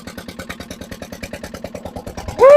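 An old barn-find dumper's smoky engine chugs in a fast, even putter close by as the machine drives, then a sharp high squeal and a loud surge break in at the very end.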